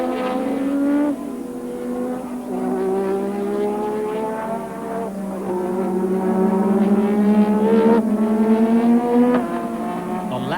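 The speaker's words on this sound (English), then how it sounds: "So the battle for the lead: Rosberg, Alboreto and Prost, pretty much nose to tail." Formula 1 cars from 1985 racing nose to tail at the German Grand Prix, engines screaming loudly and continuously with rising and falling pitch as they shift gears and pass, no voices.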